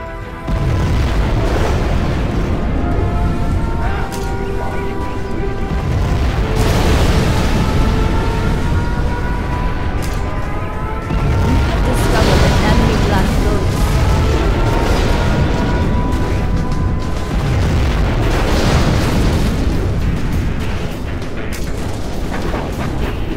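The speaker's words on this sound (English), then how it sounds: "We have launched our nuclear missile." Nuclear missile strikes in the strategy game Command & Conquer Generals Zero Hour, loud rumbling booms layered with repeated blasts and crackling debris, dense and sustained for over twenty seconds with no speech.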